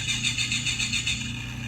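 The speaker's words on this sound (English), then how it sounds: "this right here will be the engine sounds" The engine sound effect of a diecast Nissan Skyline GT-R R34 model car hums with a pulsing, buzzy rhythm, steady and close, with no voices.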